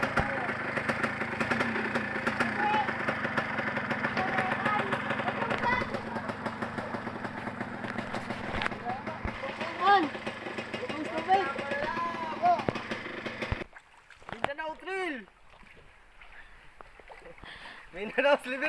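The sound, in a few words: motorcycle engine idling on trail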